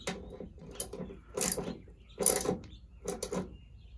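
Small fasteners on a 2017 Dodge Ram tail light are snugged up with a ratchet, making a close, quiet series of rhythmic clicking bursts.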